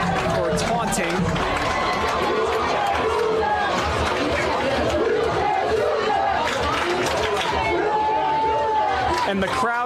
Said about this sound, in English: And the crowd chanting at them, "You can't do that."